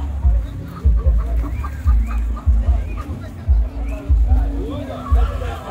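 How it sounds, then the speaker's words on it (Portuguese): Chickens and turkeys at a poultry market in Palmeira dos Índios, Alagoas, clucking and gobbling repeatedly amid a busy crowd babble, with people talking nearby and low thumping handling sounds. "Tem a, bastante galinha, tem peru também."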